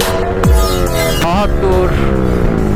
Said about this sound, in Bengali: সো গাইস, আমি এখন ফার্স্ট গিয়ার ট্রাই দিব।